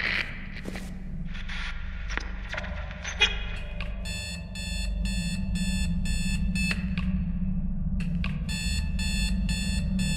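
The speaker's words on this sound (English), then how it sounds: "It's just beeping sounds." In a horror video game, electronic beeps sound in repeated bursts of regular, evenly spaced pulses. Scattered thuds and knocks come before them, and a low ambient hum runs underneath.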